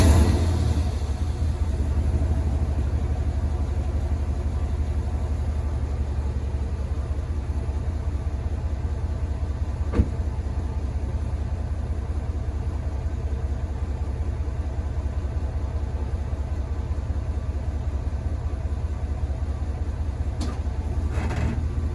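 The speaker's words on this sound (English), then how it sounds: "So now I'm going to take you guys for a drive in my truck." A 2000 GMC Yukon XL 2500 truck drives along, its engine and exhaust giving a constant low rumble with steady road noise, heard from inside the cab with no talking.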